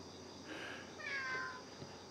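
A cat meows twice in a row during a 4am drive, each call clear and fairly close, over a steady low hum from the moving car.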